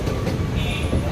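Sabari Express train running between Coimbatore and Palakkad, heard from inside a general class coach as a steady, loud, continuous rumble of wheels and carriage noise throughout.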